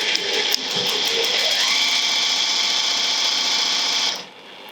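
A sewing machine runs a second line of stitching on a clutch bag. It starts with a few taps, then ramps up into a fast, even mechanical whir and stops abruptly near the end. It sounds close and clear, with no talk.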